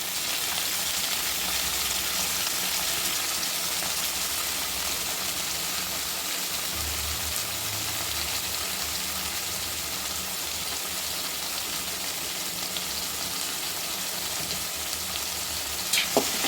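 Steady, dense sizzling of pirandai (veldt grape) stems frying in hot oil, continuous and close, with occasional soft stirring sounds underneath.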